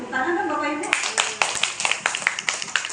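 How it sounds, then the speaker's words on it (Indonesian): Clapping from a small audience of teachers at a school dissemination session in South Jakarta, beginning after a spoken voice and continuing as sparse, uneven individual claps rather than a dense roar. "Tepuk tangan kan Bapak Ibu?"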